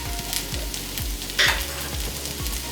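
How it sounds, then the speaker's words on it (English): Sixteen ounces of mushrooms frying in a full pan for Salisbury steak, with a steady sizzle and about six rhythmic scrapes of stirring, one brighter clatter midway. "Now I'm going to add 16 ounces of lots of mushrooms."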